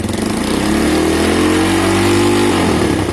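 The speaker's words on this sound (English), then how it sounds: "If you use the first quarter of the throttle and it revs okay" A Keeway motorcycle engine with a freshly cleaned carburetor and loosely mounted exhaust revs up close at light throttle, pitch rising and holding then dropping back, loud and continuous.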